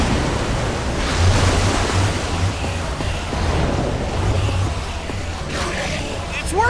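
Water gushing out in the video game Minecraft Story Mode, a loud steady rushing wash like surf that fills the whole stretch, with a faint voice near the end.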